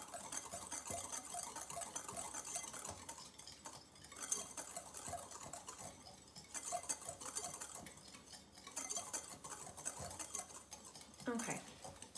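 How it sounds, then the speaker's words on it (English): A whisk stirs sugars together in a bowl, producing a steady scraping and clinking of wire against the bowl in an irregular rhythm, close up and moderately quiet, with no talk. "I'm going to whisk the sugars together for about maybe 30 seconds."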